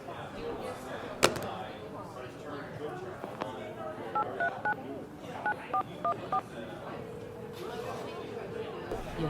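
A telephone being dialed in the video game Vampire: The Masquerade Port Saga: a series of about eight short keypad beeps in an uneven rhythm over busy background ambience and murmured chatter, with an earlier sharp knock.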